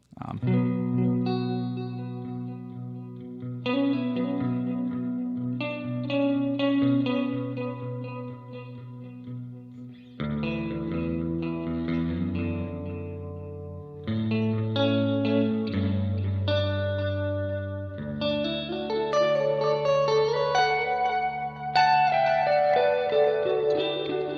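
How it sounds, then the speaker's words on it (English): Electric guitar through a Line 6 DL4 MKII delay pedal with heavily oversaturated reverb, layered chords and notes smearing into washy, echoing sustain that builds in density, played alone. "Just kind of oversaturate the reverb intentionally."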